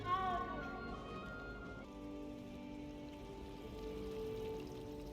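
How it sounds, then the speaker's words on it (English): A cat in the video game Hogwarts Legacy meows clearly and close at the start, a short drawn-out call over soft rain-like ambience and quiet background game sound. "Can we pet the kitty?"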